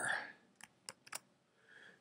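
Buttons pressed on a calculator while entering a square-root calculation; three or four quick, separate clicks sound close between soft breathy voice sounds.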